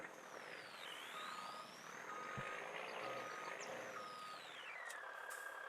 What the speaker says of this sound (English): That sounds like a manly truck right there.